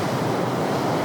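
Ocean surf on the Kamchatka coast washes in as a steady, loud, broadband roar of breaking waves mixed with wind noise, continuous and with no voices.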